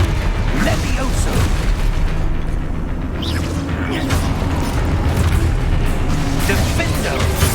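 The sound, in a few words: spell casting explosions in Hogwarts Legacy video game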